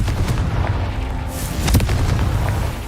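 Confringo blasting spell from the video game Hogwarts Legacy: a loud, continuous rumbling blast with a sharper booming burst partway through, sustained over crackling background noise.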